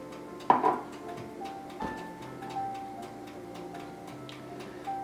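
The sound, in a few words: kitchen timer ticking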